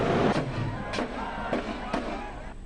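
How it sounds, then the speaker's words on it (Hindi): Firecrackers bursting at a night-long festival celebration in Menar, Udaipur, where guns are also fired; four sharp cracks land about half a second apart over a steady crowd murmur, with a voice faintly audible in the mix. "अठे पूरी रात पटाखा छोड़बारे साथे बंदूका चलाई जावे है।"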